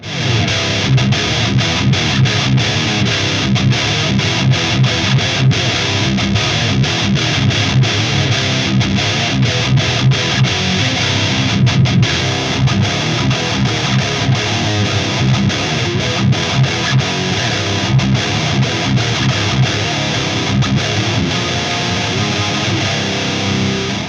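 Heavy distorted electric guitar through a Mesa Rectifier recording preamp chugs steadily and loudly, a dense, saturated amp tone sustained throughout with no voices.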